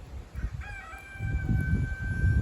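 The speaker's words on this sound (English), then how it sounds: "Can you hear my rooster crowing in the background?" A rooster crows once in the background outdoors, its drawn-out, tonal call faint and distant, set against a low rustling and handling noise that swells toward the end.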